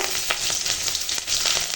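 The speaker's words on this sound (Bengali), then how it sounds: "ওই তেলেই রান্না করব কাঁচা লঙ্কা দিলাম আর দিয়ে দেবো কালো জিরে" Green chili and nigella seeds frying in oil left over from frying fish, a dense, close crackling sizzle with rapid pops and spits throughout, loud and steady with no voices.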